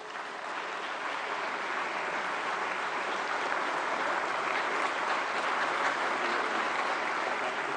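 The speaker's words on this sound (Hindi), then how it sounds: "जोरदार तालियां एक बार" A large audience at a ceremony for a painting of Madan Mohan Malaviya applauds loudly and continuously, a dense, even roar of clapping that holds for several seconds without talk.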